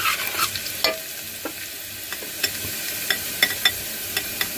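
Chopped onions and turmeric fry in hot tempering oil for a brinjal palya, giving a steady close sizzle broken by regular light clicks and scrapes from stirring.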